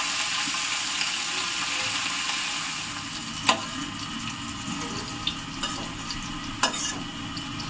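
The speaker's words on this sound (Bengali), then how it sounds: "তো দেখো সুন্দর লাল লাল ভাজা হয়ে গেছে" Dried fish frying in a pan gives a steady low sizzle throughout, with a few brief sharp clinks from the utensil and stirring scrapes; no voices.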